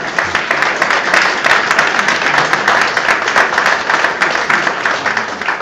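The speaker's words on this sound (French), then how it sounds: "et là vous pouvez l'applaudir," A crowd at a federation gathering in Avignon applauds founder Alain Dreyer with loud, close, continuous clapping from start to finish and no pauses.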